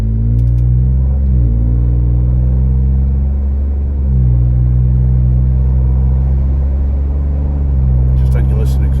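An AWE catback exhaust on a 2021-2022 Ford Bronco rumbles deep and loud at close range, the engine note dipping and rising in a few slow shifts while someone talks at times.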